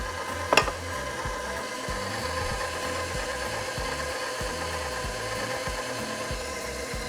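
A stand mixer kneads beignet dough made with flour, sugar and shortening, giving a steady mechanical whir with a rhythmic low thumping from the dough hook and one sharp clunk near the start, heard alone without talk.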